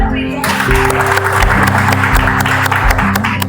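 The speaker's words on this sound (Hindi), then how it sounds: "आज इस समारोह का आगाज करते हैं जोरदार तालियों के साथ" Loud applause from a gathered audience opens a retirement ceremony, many hands clapping in a full, sustained burst beneath a steady low musical hum, with scattered voices in the crowd.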